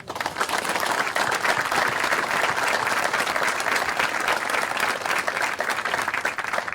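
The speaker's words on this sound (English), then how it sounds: "Please join me in a round of applause for these outstanding professionals" Dense, loud applause for cadre and drill sergeants at an Army basic camp ceremony, a crowd clapping steadily and evenly throughout.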